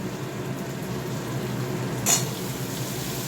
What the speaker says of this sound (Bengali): এবার আমি সজনের ডাটাগুলো দিয়ে দেবো